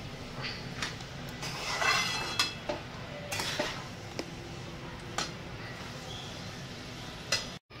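Veg pulao ingredients are stirred together in a pot, giving a steady scrape-and-clink of a spoon against metal with a few sharper knocks, close and moderately loud, with no talking.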